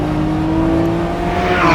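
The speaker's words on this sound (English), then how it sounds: "There we go, a little bit of mid-engine action happening now." A 2024 Lamborghini Revuelto, mid-engine with 1,001 horsepower, revs on a track corner exit, giving a loud, steady engine drone that swells slightly toward the end.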